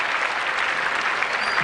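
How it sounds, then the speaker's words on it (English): Warm applause from the players' dressing room at a 1979 Australia versus West Indies cricket test, steady and fairly loud clapping from a group sustained throughout. "warm applause from his own dressing room"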